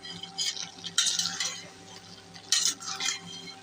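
A curry of jackfruit seeds and dried fish is stirred in a pot. A utensil scrapes in short bursts over a low, steady simmer, with two stronger stirring strokes close together.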